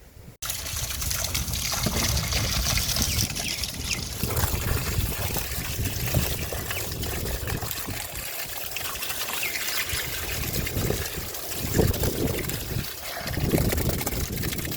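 Water is poured and splashed steadily while washing pieces of freshly caught rupchanda pond fish outdoors in a village, a continuous close rush with small surges and sloshes.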